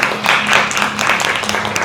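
Classroom audience clapping after a student presentation during a teaching performance test, a loud, close, brisk burst of many hands with rhythmic patches.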